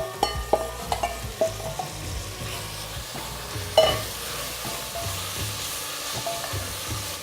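Shallots softened in a pan with tomatoes added for a seabass pollichathu sauce, frying with a steady low sizzle, spoon stirring and scraping, and a sharper clatter partway through.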